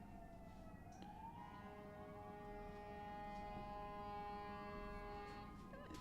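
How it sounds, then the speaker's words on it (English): A distant ambulance siren wails in a steady rising and falling tone, faint over low background rumble. "Ambulance doing its thing as it typically does at this time."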